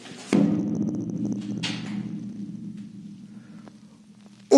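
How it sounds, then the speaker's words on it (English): A heavy door slams once, loudly and close, in a Cold War nuclear bunker near Gillingham, followed by a long booming echo that slowly fades; another sharp bang begins at the end. "listen to the echo when you slam a door."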